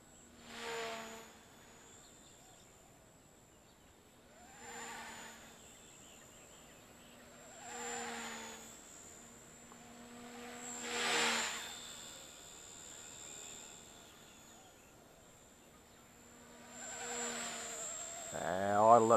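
A Blade 130S RC helicopter with a three-blade main rotor head flies at a distance, its whine rising and falling in several swelling passes, faint and buzzing like an insect, with a sharper pitch sweep at the end.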